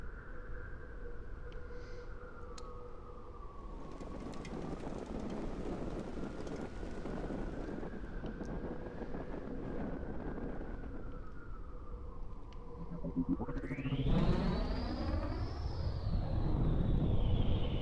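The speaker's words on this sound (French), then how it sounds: "Alors le vent nous pousse vers la gauche." Wind in the video game Exo One, a steady rushing roar throughout, with a rising whooshing swell near the end as speed builds.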